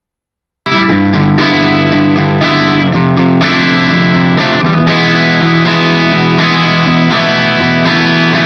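A loud, harshly distorted tone kicks in after a short silence and holds steadily, buzzing and saturated, with shifting chord-like pitches.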